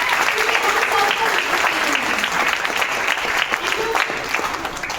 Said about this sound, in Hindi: तो मैं चाहूंगी तो महान organisation SDPS wellness private limited की एक बार जोरदार तालियां हो जाए।